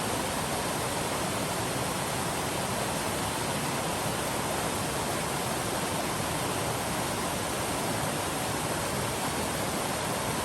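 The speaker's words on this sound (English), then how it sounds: "I think this is probably 20-mile Creek" Twenty Mile Creek in the Great Smoky Mountains rushes steadily nearby, a dense, even roar of flowing water that stays constant throughout, with no voices.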